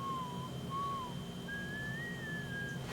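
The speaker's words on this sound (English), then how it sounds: "the whistle part at the beginning, like very, very long whistle part where it's doing that weird zoomy" A long, sliding whistle glides up and down in pitch, sustained and steady over a faint instrumental bed, from the opening of a song.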